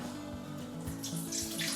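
Chilled, earlier-brewed coffee is poured straight into a glass, making a steady, close gurgling trickle of liquid.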